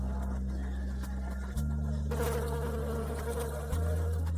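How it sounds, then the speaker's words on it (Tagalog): Flies buzz close by in a steady drone, the pitch shifting now and then as they move, with no voices. "Patayin ang ilang langaw gamit ang tabak."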